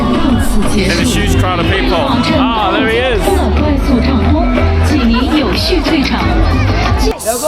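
Dense crowd chatter in Kashgar old town, Xinjiang, many voices overlapping in a close, continuous babble, with a nearby voice speaking briefly over it.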